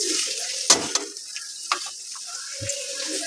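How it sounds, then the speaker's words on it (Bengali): Green chillies and chopped onions frying in oil in a wok, a broadband crackling sizzle with a few sharp knocks of a spatula against the pan, close and steady, with no talk. "এবার আমি এগুলোকে ভেজে নেবো ভালো করে"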